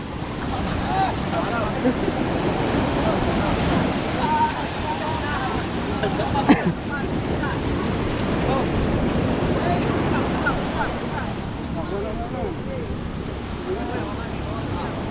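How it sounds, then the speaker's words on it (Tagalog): Big ocean waves break and wash continuously, mixed with wind buffeting the microphone and a nearby boat, while people talk over the sea noise. "Lalaki ng alon."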